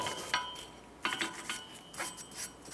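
A wire brush scrubs rust off a Buick Encore rear wheel hub in short, irregular raspy strokes, close and fairly quiet, with no talking.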